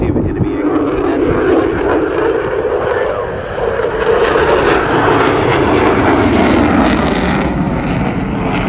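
Military jet at the Newcastle Air Show roaring overhead, a loud, broad, sustained rumble with wind buffeting that swells and shifts as the aircraft passes, heard outdoors from the crowd.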